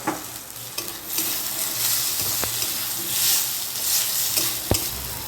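Chopped tomato sizzles in a pan with okra and potato, a steady close frying hiss broken by a few sharp clicks of a spoon stirring against the pan.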